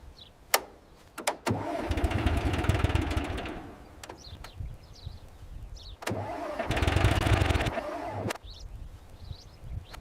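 A diesel tractor engine is cranked twice. Each attempt is a few seconds of rough, rumbling turning-over that fades out, with sharp clicks and knocks before and between the two bursts.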